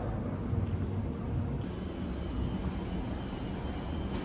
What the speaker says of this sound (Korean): 오랜만이다 비행기.